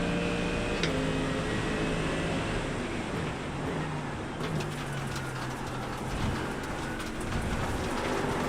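Steady rain hissing in a GT3 racing game at Donington, a dense continuous wash of drops with a low engine drone underneath, constant and fairly loud throughout.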